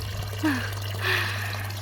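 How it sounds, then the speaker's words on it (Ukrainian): Water trickling slowly outdoors in a rural setting, a steady faint flow with a couple of soft gurgles over a constant low hum. "Так на відео прикольно вода тече."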